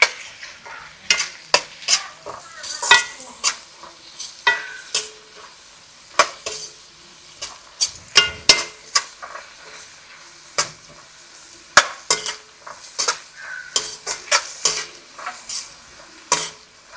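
Tomato and onion sautéing in a pan with chilli and curry leaves, a soft continuous sizzle under repeated sharp scrapes and clinks of a spoon stirring against the metal pan.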